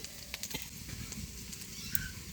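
Drumstick leaf fritters frying in a village kitchen give a soft, steady sizzle of oil with small pops and crackles, fairly quiet and continuous with no one talking.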